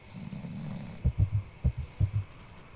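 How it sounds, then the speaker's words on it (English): A character in a horror video game snores in a slow run of deep, throaty snorts, about six rough pulses close and fairly loud after a brief low hum. "Snoring already?"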